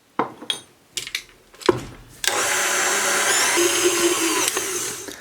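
Stand mixer kneading bread dough of flour, sesame seeds and lukewarm water, a few clatters and knocks at first, then a loud, steady motor whir with a rhythmic churning that runs on without letup.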